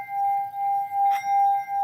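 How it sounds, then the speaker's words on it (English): A singing bowl sounds with a pure, steady, sustained tone close by, its ring pulsing gently in slow waves, with a light brief tap partway through and no talking. "So we're going to be ringing the bowl."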